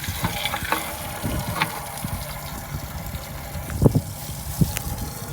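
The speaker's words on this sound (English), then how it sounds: "I'm gonna fill this guy up with water here in the old side lock" Water pours into the side of the engine block of a 1936 Ford Fordor under restoration, a steady gurgling trickle with small splashes and faint knocks, close, with wind noise and no talk.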